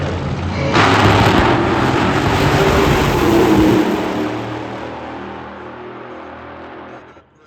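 A Top Alcohol Dragster or Funny Car launches at an NHRA Lucas Oil Series Division 1 drag race. The loud, roaring engine blast swells sharply, holds, then fades into the distance as the car runs down the strip.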